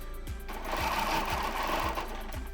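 A sewing machine quilts orange peel petal shapes with a ruler template, running close and steady with a fast mechanical hum and regular thumping stitch beats and no talk.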